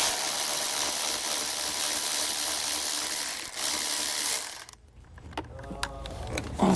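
Ratchet with a 10mm socket backing out a bolt during a base plate installation on a 2016 Mazda, a steady close clicking that cuts off abruptly partway, followed by quieter handling noises.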